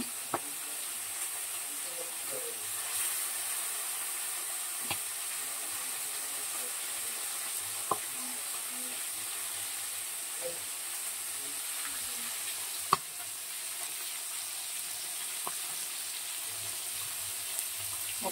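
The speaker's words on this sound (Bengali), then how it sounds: "দেখো মাছগুলো ভেজে নেওয়া হচ্ছে।" Fish frying in a pan at home, a steady soft sizzle and hiss running throughout with a few faint clicks and taps of a utensil.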